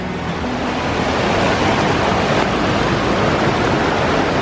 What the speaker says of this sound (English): I'm gonna take you guys out to the middle of this river.